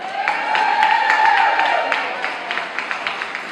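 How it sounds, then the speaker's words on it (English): A nightclub audience at a live talent showcase claps and cheers for a few seconds, with a burst of whoops early on that fades into scattered, thinning applause. "Round of applause"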